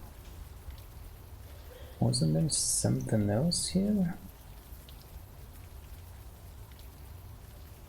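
Steady rain in the video game Unavowed, a soft, constant patter in the background while someone speaks briefly over it.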